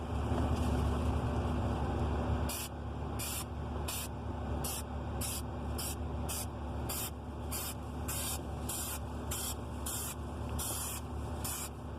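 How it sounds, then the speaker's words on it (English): A steady background hiss gives way to a run of short, rhythmic aerosol bursts of adhesive spray for a car headliner, close and fairly loud, with no talking. "we're gonna start spraying"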